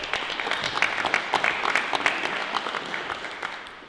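An audience at an anti-nuclear weapons movement panel applauds to welcome the moderator to the stage, a steady, fairly close wash of clapping with distinct individual claps standing out throughout.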